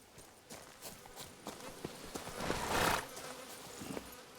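Horse Roach's hooves clip-clop along a busy village road in Witcher 3: Blood and Wine, a soft, uneven run of steps with ambient chatter and noise around them, swelling briefly in the middle.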